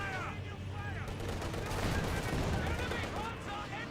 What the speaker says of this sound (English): Guards on the flank will start peppering up the Panzer Fusilier there